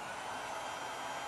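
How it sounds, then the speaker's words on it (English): A hair dryer's motor running with a steady broadband whoosh and hum, faint and continuous for just over a second, with no voices. "once I turn the hairdryer back on"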